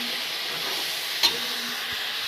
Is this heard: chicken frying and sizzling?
yes